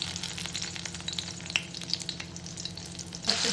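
Garlic sizzles steadily in hot oil that was already used to fry onions for a chicken roast, a close, continuous crackle with a few brief stirring scrapes and a louder stir near the end.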